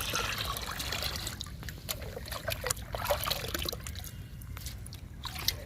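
Liquid fertilizer made from green grass soaked in water for four days, poured from a bucket onto garden plants; a steady close trickle and splash of liquid runs throughout with small drips and squishy bursts.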